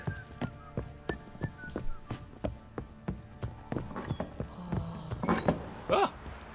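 Horse hooves clip-clop at a steady walking rhythm in The Witcher 3 video game, with a brief neigh or whinny near the end over a low game background.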